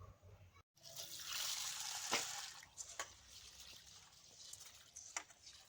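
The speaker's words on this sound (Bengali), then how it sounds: "প্রথমে আমি সাবুদানাগুলোকে ভালো করে ধুয়ে নিচ্ছি" Sago pearls are rinsed in water by hand, producing soft close sloshing and splashing with a brief trickle, fairly faint, after a short silent gap at the start.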